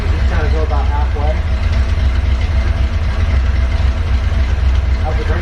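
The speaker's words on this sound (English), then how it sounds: "All right, let's go ahead and fire it up" A Ford Bronco, newly fitted with a hydroboost brake system, idles with a steady low rumble up close. A brief voice speaks over the engine near the start.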